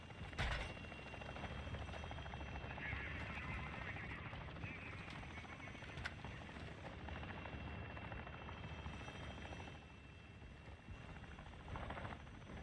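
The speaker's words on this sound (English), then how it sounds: "Be advised, the enemy attack helo is approaching your location." An enemy attack helicopter approaches in the DMZ video game, a continuous rotor drone and engine rumble holding steady under faint game sounds, with a brief sharp crack near the start.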